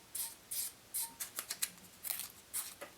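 Scissors snip repeatedly while trimming an Adams Irresistible dry fly at a fly-tying bench: about a dozen crisp, close cuts in uneven bursts, with quiet pauses between them.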